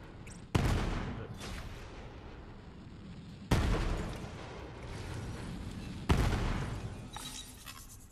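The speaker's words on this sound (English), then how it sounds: "they're shooting rockets right in here" Three heavy rocket blasts from Borderlands 3, near and loud, arrive about three seconds apart, each a sharp broadband impact that trails into a rumbling, crackling decay over steady game background noise.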